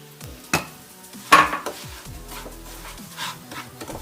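Idli rava being stirred into fried lentils in a pan, with scattered scraping strokes and a couple of sharp utensil knocks against the pan, fairly close and with no talk.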